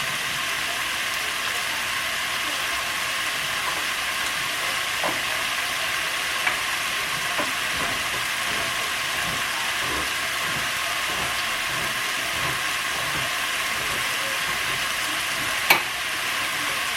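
Short ribs sizzle and fry in a pan, a steady broadband hiss with faint crackles and one sharp pop near the end, continuous and close with no talking.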